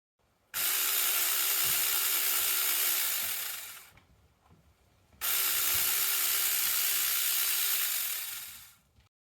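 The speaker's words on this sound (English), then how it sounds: "I've got this lilac bush that needs some pruning. Now, you can see how the branch is kind of vibrating, and this is definitely a chainsaw" A battery-powered mini chainsaw cuts through lilac bush branches outdoors in a backyard, giving two loud bursts of motor whine and chain cutting, each about three seconds long, with a short quiet gap between them.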